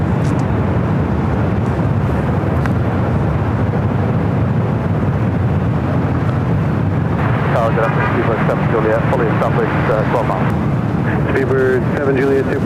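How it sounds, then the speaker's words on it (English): A Southwest Airlines Boeing 737 MAX 8 airliner, flight from San Francisco, lands at LAX. Its jet noise is a loud, steady broadband roar that stays constant throughout, joined by a voice and rising whine in the latter half. "This is Southwest Airlines 1333 coming in from San Francisco on the MAX 8."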